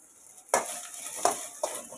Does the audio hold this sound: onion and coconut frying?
yes